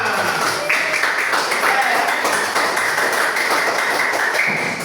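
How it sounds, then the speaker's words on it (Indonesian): A class of seventh-grade pupils claps together in the classroom, a dense, steady patter of hands that runs unbroken for about five seconds at close range. "Ya, tepuk tangan untuk kita semua"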